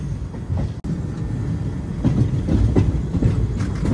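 The Narsapur Dharmavaram Express passenger train runs between Vijayawada and Gudivada, a steady close rumble with rhythmic clacking of wheels on rail joints, heard from inside with no talk.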